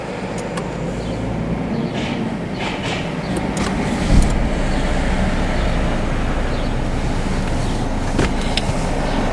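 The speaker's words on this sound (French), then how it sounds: "il faut que le moteur soit tournant" Steady idling engine of a Renault Clio 4 parked during a driving-test vehicle check, a constant low rumble with faint clicks and one brief louder thump, no talking.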